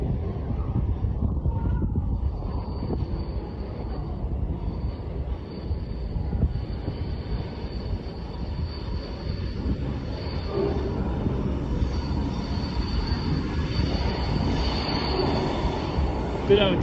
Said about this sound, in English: Bit of a train arriving.